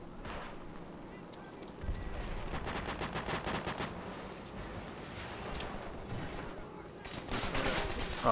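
Gunfire from Call of Duty: World at War team deathmatch: rapid bursts of rifle and machine-gun shots in sustained clusters, loud and close, with voices talking over the shooting.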